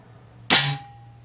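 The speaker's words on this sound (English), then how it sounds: "I've got a full power UK air rifle." A single sharp crack from a full-power UK air rifle firing, close and loud, quickly decaying in a quiet setting.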